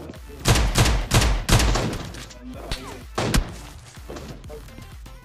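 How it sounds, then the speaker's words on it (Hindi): Gunfire in the PUBG Mobile Lite video game, including an AWM sniper rifle: a string of sharp, loud shots in quick bursts, followed by scattered fainter pops and thuds, with no talk over them. "आप लोगों को AWM की फायरिंग सुनी गई होगी"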